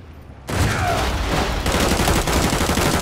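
Gunfire in Call of Duty MW3 zombies mode starts abruptly after a brief quiet moment and keeps going as a loud, dense burst of rapid automatic shots close up, with no voices.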